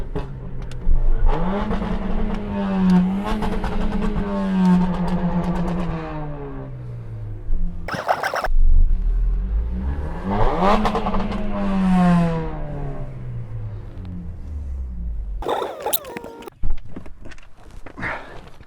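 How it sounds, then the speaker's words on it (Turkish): A Volkswagen Jetta's exhaust revs up twice, each rev climbing to a roaring peak and falling back, with a short burble and pops in between and after. "ben kendi arabamın egzoz sesini size bir dinleteyim"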